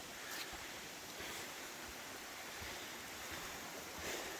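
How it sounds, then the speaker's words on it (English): A wide stretch of creek flowing beside a mountain campsite gives a soft, continuous rushing wash with a few slightly louder surges, fairly distant and faint, with no talking. "we're right next to a wider part in the creek"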